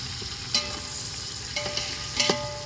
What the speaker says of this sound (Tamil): சுத்தமான வெங்காயம். Okay, ton. இப்போ வதக்கிக்கலாம்.